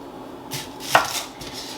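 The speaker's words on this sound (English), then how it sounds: "So I'm just gonna cut the butt ends of the onion off." A kitchen knife slices the butt ends off an onion on a cutting board, giving a couple of short, crisp chops close by with one sharper cut in the middle, and no voice.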